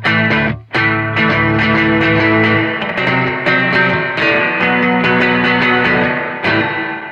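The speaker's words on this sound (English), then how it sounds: "Let me turn it to clean so you can hear the reverb real easily." A clean guitar tone through a Laney Ironheart amp plugin, with the reverb turned up, plays loud, sustained chords and notes that ring out and blend into a washy tail, with a brief gap near the start.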